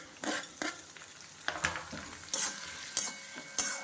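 Green chillies tossed into a hot wok crackle and sizzle while a spatula scrapes and clanks against the metal in irregular, close strokes, with no talk.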